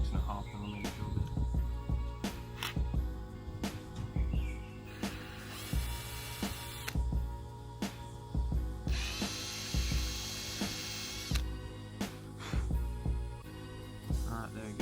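A 6.5mm bit drilling through a fog light cover on a Subaru STI, with bursts of high whine between knocks and handling clatter, close up under faint background noise.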